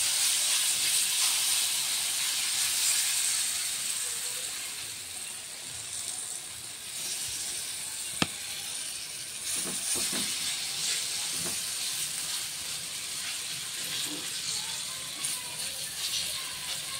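Palm-based food frying in a pan of oil, a steady hiss and sizzle that softens slightly partway through, with a single sharp click and a few faint knocks from handling along the way.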